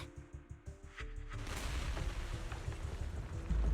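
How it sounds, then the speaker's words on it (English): Explosions in the Zenless Zone Zero video game: a run of short, rhythmic thumps gives way to a loud, sustained roar of blasts and rumbling that swells toward the end. "several explosions erupt, followed by tremors in the ground"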